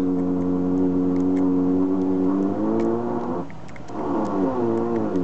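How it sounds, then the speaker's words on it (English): Drilling runs steadily in the background, a sustained harmonic whine that dips briefly and then resumes, with no talk over it. "sorry about the drilling in the background it's beyond our control it's somebody else."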